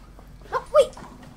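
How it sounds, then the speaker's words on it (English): A small dog gives two short, high yips or barks in quick succession, close by, with no talk over them. "Settle down, little dog!"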